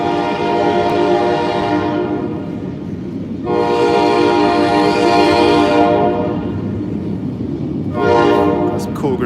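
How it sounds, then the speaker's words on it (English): A passing train sounds its horn in three long, loud blasts, the second the longest, over a continuous rumble of rolling rail cars. "It's crazy how they sync up trains like that."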